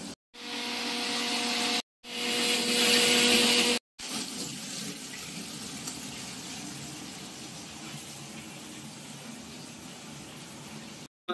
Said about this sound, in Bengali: আদা লঙ্কা রসুন একসঙ্গে পেস্ট করে নেওয়া হচ্ছে।